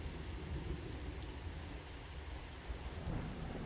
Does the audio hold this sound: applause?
no